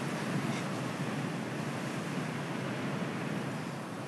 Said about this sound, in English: Nothing like the sound of waves hitting the seashore.